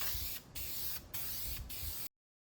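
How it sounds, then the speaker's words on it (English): Aerosol spray paint applied to a Nissan Frontier part in three close, steady hissing bursts separated by short pauses, then silence. "We're gonna start spraying our paint."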